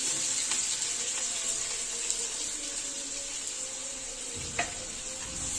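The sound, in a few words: thinly sliced onions frying in hot oil for beresta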